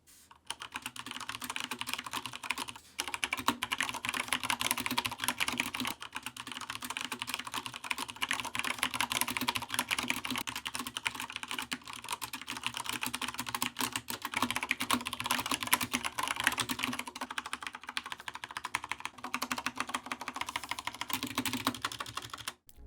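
Steady, continuous typing on a keyboard fitted with Corsair PBT and ABS keycaps, a dense run of close, crisp key clacks with a brief pause near the three-second mark, no voices.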